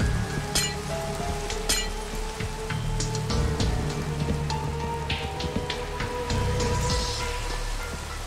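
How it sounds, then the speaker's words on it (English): Steady rain pours during a thunderstorm in the Minecraft video game, a dense drumming hiss with low rumbling underneath and scattered sharp clicks and game sounds, continuous and fairly loud throughout. "I hate this thunderstorm"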